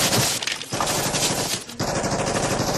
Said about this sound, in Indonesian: Tiba-tiba seorang prajurit yang panik menembakkan senjatanya.